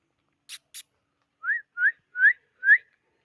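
A person whistles four short, rising notes in an even rhythm, close and clear. Two quick dull taps come just before, and the background is otherwise quiet.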